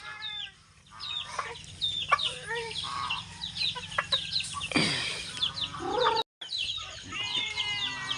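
Chickens and young chicks clucking and peeping around a yard in the morning, with a steady stream of overlapping chirps and clucks close by and a brief gap near the end.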